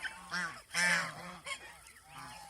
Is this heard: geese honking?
yes